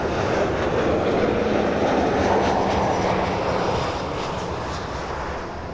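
A cargo airliner on an airport runway gives off a loud, steady roar of jet engines that holds for several seconds and eases off slightly near the end, with no voices.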